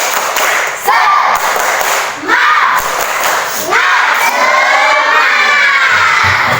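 A class of schoolchildren shout a loud rhythmic cheer together in a classroom, voices rising and falling in bursts with sharp thuds that could be claps, filling the whole clip.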